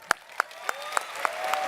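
Six slow, evenly spaced single handclaps, crisp and close, each ringing briefly against a quiet background, at a live Canva Affinity event.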